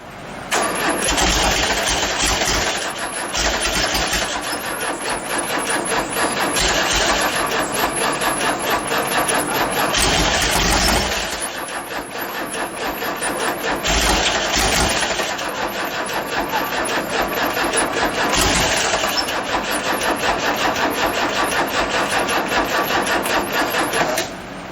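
A freshly built high-performance 1776cc VW Beetle engine cold-starting and running, a loud, close, continuous air-cooled rumble with a few cranking restarts and dips in revs over about twenty-five seconds.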